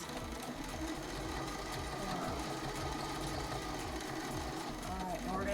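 A sewing machine runs steadily while it stitches a checkbook cover, sewing a lock stitch with a fast, even mechanical rhythm that continues without a break for several seconds, close up.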